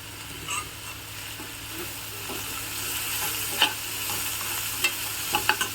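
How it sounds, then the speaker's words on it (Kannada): Food fries gently in a pan over a low flame for a traditional village-style dish, a soft continuous sizzle with occasional light stirring clicks and scrapes. "ಈಗ ಸಿಮ್ಮಲ್ಲಿ ಇಟ್ಟಾದಮೇಲೆ ಸ್ವಲ್ಪ ಹೊತ್ತು ಇದನ್ನು ಫ್ರೈ ಆಗೋಕ್ಕೆ ಬಿಡಬೇಕು"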